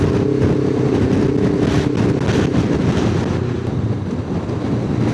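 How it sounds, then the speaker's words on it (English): Strong gusting wind roars steadily against the helmet microphone while a motorcycle climbs an exposed road on the Glen Lyon loop, with low engine rumble underneath and no talk. "You're just going along and a gust catches you."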